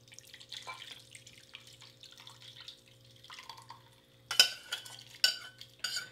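Soup with rice, parsley and onion from a Russian IRP ration being poured into a bowl, soft liquid trickling and splashing with a few louder sloshes near the end, close and fairly quiet.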